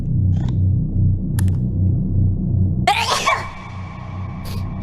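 A loud cartoon sneeze in an animated Hololive short bursts out sharply about three seconds in, after a steady low throbbing hum, then trails off with a ringing tone.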